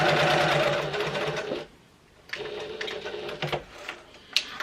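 A domestic sewing machine stitching down the centre line of a fabric clutch wallet, a loud rapid mechanical whir in two bursts separated by a short pause, with faint clicks of handling at the end.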